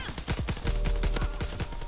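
Rapid pistol shots ring out in a sniper video game, a quick run of sharp cracks spaced closely together over about two seconds, loud and close with no talk.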